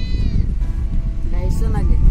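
Sheep and goats in a desert pen in Rajasthan, about 250 animals, bleating in several overlapping, wavering calls over a steady low rumble of noise, with people talking nearby.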